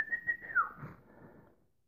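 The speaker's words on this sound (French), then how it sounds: "Je siffle comme pour appeler un chien." A person whistles as if calling a dog: a short, clear, high whistle with a couple of quick pulses, then a downward glide that fades out.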